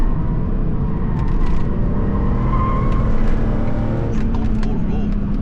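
A Porsche 968 sports car engine pulls hard in sport mode on worn tyres, a loud, steady engine roar from inside the car that continues throughout, with speech over it.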